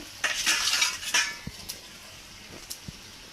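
A spoon lifting sour-spicy tulo sardine fish curry out of a pan, with close scraping and clattering of metal on the pan in two bursts, followed by a few faint taps.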